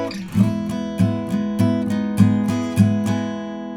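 Acoustic guitar strummed steadily in sixteenth notes on an E-position chord, with regular accented downbeats roughly every half second, close and clear with no talking.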